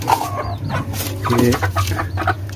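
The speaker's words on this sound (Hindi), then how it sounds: "ये मुर्गी मैं वक्ती तौर पर यहाँ पर ले आया हूँ" A hen moved to a new temporary cage clucks close by in short, repeated bursts, with a few higher squawks, against a low steady hum.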